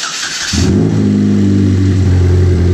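A Chevrolet Cobalt engine with a newly fitted exhaust resonator fires up and settles into a loud, deep, rumbling idle with a throaty exhaust note, steady and close.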